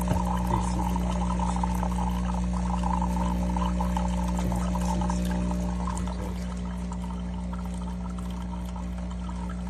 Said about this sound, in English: it does your hot water first for the Americano